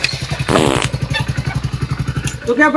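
An old motorcycle engine putters in a rapid, steady thumping rhythm close by, with a brief burst of louder noise early on and a voice speaking over it near the end.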